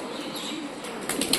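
Pigeon flapping its wings in flight, a short, soft flutter near the end of a quiet stretch of low background noise.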